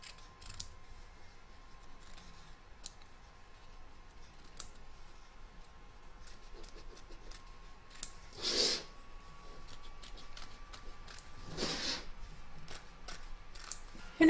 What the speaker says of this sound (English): you're now going to trim up the excess fabric from both the front and the back